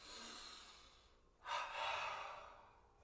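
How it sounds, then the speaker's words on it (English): Slow, audible breathing during a yoga posture session: a quiet exhale-like hiss fades, then a fuller inhale rises around the midpoint and sustains, close to the microphone with no speech. "Keep breathing."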